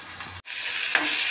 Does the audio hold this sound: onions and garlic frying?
yes